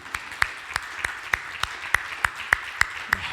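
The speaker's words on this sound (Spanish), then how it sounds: "Démosle un aplauso al Señor" A church congregation claps in unison to a steady beat, about ten sharp, evenly spaced claps ringing out clearly over a soft room background.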